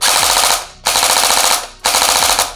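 A Jingji SLR V4 gel blaster fires three loud rapid-fire bursts with blowback, each a fast mechanical rattle of shots cutting off abruptly, very close.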